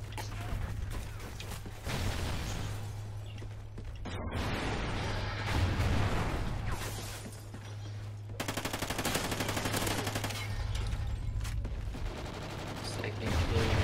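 Rapid submachine-gun bursts in Call of Duty Ghosts, loud repeated rattling fire in several runs with brief gaps, over constant game background sound and someone talking.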